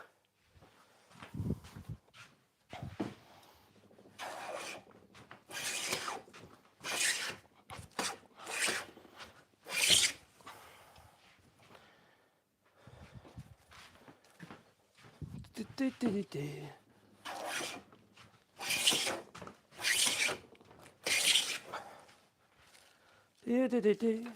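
A hand plane taking long shavings from a wooden stair part in a workshop, heard as a series of repeated rasping strokes, each a second or so long, up close, with someone talking between and over them.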